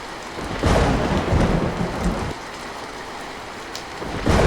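Heavy rain pours steadily while deep thunder rumbles in loud surges during a nor'wester (kalbaishakhi) storm, swelling and fading across the storm with no voices.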